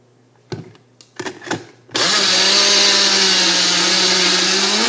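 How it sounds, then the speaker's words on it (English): A blender grinds hemp seeds into hemp butter: a few short bumps and pulses, then a loud, steady motor whir that holds close up for several seconds. "And then we're going to grind that up. And you make your own hemp butter."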